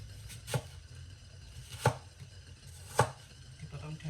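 Knife chopping washed ingredients into cubes on a board for a homemade Hong Kong-style herbal drink, three distinct sharp chops spaced about a second apart over a quiet low background hum.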